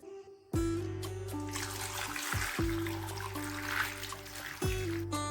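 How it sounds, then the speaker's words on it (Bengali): Amla, Indian gooseberries, are washed by hand in water, with close splashing and trickling from moving water and fruit, and sharp knocks as they bump a metal vessel, steady throughout with no talking. "এবার এটাকে প্রথমে জল দিয়ে ভালো করে ধুয়ে নেবো"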